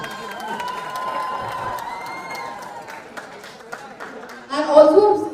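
A live crowd cheers and applauds at a movie success celebration event as a student is called on stage, steady noisy applause and shouts building to a loud burst of screams near the end.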